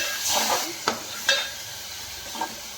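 Ground masala paste being stirred in a pan for an egg curry, soft sizzling under a few distinct scraping strokes of a spoon against the pan, close and moderately loud with no talking.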